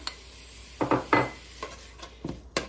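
Chopped ingredients for Zuppa Toscana soup tipped into a big pot, giving a few quick clattering knocks and scrapes with pauses between them, close and fairly quiet.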